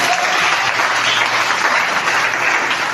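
A church congregation breaks into steady, enthusiastic applause, a dense wash of many hands clapping evenly throughout without any clear speech.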